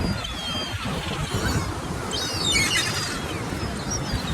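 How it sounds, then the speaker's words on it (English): Seagulls call at Hastings seaside in high, scattered cries that rise over steady, loud surf and wind, with a clearer cluster of calls near the middle. "Look at all the gulls here."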